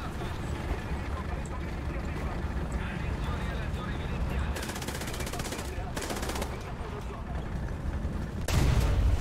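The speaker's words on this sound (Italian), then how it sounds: "No, stavolta ti sparo." Machine-gun fire rattles in War Thunder tank combat, running through a constant engine rumble with fast repeated bursts midway and a heavier blast near the end, while players talk over it.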